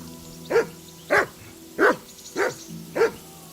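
Five evenly spaced barks from a dog in Kingdom Come: Deliverance II, loud and close, with short pauses between them and nothing else heard.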